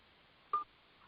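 One short telephone keypad tone sounds once, quiet and clean, against near silence on a call-in line.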